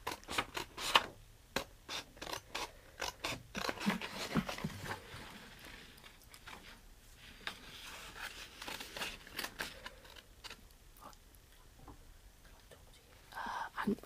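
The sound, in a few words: scissors roughly cutting out a paper puppet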